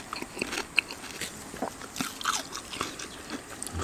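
Someone chewing boiled pork stomach cooked over a wood fire, close and quiet, with soft irregular bites and wet, rubbery chewing sounds and no speech.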